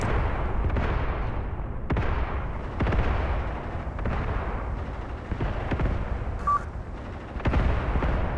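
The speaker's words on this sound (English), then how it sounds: "the men are getting back onto the gun, getting ready to resume shooting" Artillery guns firing in Graviteam Tactics Mius: repeated heavy booms about once a second, each with a rumbling decay, loud and steady over a constant battlefield roar.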